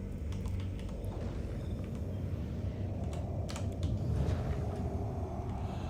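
Rapid typing on a computer keyboard during a Star Citizen mining session, a dense continuous patter of key clicks over a low background hum.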